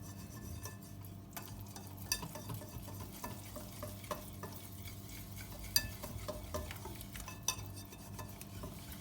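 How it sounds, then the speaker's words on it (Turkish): Oil and flour being slowly stirred together in a bowl for crispy börek dough, soft faint scraping and scattered light clicks of the utensil against the bowl, alone without talk. "Sıvı yağ ve unumuzu yavaş yavaş karıştırıyoruz kıvam alana kadar."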